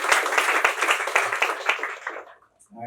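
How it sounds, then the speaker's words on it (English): Students in a corporate classroom session applaud a top-ranked exam candidate, giving a short burst of lively clapping that tapers off after about two seconds into near silence. "A big round of applause for Nishtha."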